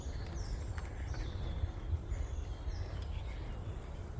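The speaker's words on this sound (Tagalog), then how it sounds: "Tapos ang sarap pakinggan ng mga ibon." Faint bird calls and chirps drift over a constant outdoor rumble, scattered and distant throughout.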